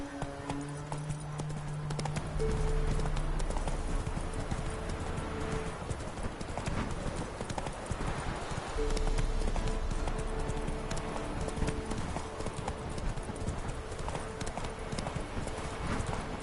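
Hooves of Roach, a horse in The Witcher 3, clop in a fast steady galloping rhythm throughout, close and continuous, with a low tonal score underneath.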